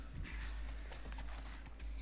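Horse hooves in The Last of Us video game, in a snowy outdoor setting, give a brief run of soft, quiet clip-clop steps over a low steady background.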